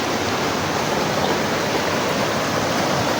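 Continuous rushing water from a stream on Burias Island, a steady broadband flow, close and loud with no talking.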